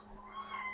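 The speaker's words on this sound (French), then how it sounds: "ça c'est le chat qui fait des bruits bizarres" A cat making odd, drawn-out meowing noises, a faint strained vocal tone held under a quiet room background for under a second.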